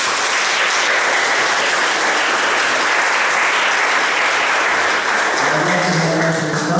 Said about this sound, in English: Give yourselves all a fantastic round of applause.